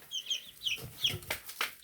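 Young chicks at twelve days old, including a couple of tailless young roosters, cluck and cheep in a brooder with shavings and a dirt bath, several short close chirping bursts in quick irregular succession.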